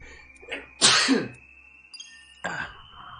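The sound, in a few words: sneeze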